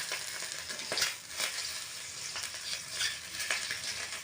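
Duck egg frying in oil in a pan, giving a steady close sizzle broken by several sharp scraping stirs spaced about half a second apart. No one speaks.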